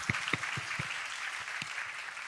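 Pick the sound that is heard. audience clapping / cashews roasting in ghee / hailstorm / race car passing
audience clapping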